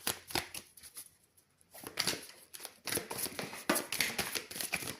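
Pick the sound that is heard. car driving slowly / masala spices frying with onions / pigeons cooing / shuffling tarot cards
shuffling tarot cards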